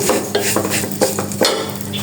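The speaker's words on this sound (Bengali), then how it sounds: "আমি এই যে সেমাইগুলো দিয়ে দিব এগুলোকে সুন্দর করে একটু ভেজে নিব" Vermicelli being fried in a pan with cardamom and cinnamon for zarda semai, a loud close sizzle with repeated clinks and scrapes of a spoon stirring against the metal.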